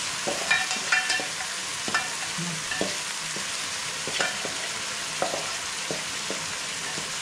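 Traditional Kenyan vegetables, such as sukuma wiki, hit a hot pan and sizzle loudly and steadily, with scattered clinks and scrapes of stirring over the constant frying hiss and no voices.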